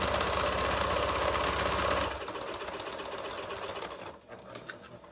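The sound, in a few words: sewing machine stitching a fabric face mask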